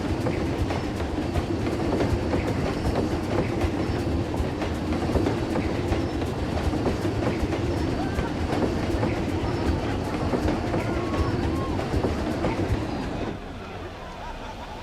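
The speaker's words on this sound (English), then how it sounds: "I think we could definitely slow that train down so people could enjoy the views a little more" A train runs on rails in the Planet Coaster 2 tropical theme park, a steady rolling rumble with faint rhythmic clacking that continues throughout and drops away sharply near the end.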